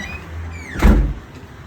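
A car door closes with a single solid thump, preceded by a brief mechanical slide and rattle, close by and fairly loud.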